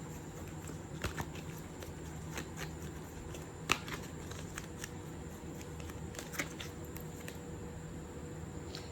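Tarot cards shuffled softly close by, with scattered light flicks and snaps over a quiet room hiss and one sharper snap partway through, with no talking.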